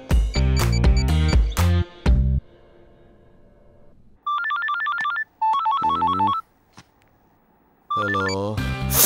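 A telephone ringtone chirps in two short repeated bursts, following loud music and voices at the start of a scene from a 2017 Telugu film.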